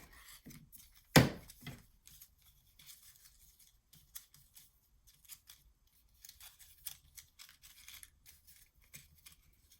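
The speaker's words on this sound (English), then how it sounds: "So I'm gonna go ahead and cut this because this is getting in the way." Scissors cutting a knotted string while making a mini accordion album: one sharp snip near the start, then faint scattered rustles and small clicks of handling, close and quiet, no talking.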